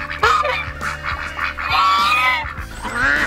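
Ducks and chickens on a farm with a yurt, giving a busy run of overlapping quacks, honks and squawky calls close by, the birds calling almost without pause and with no talking.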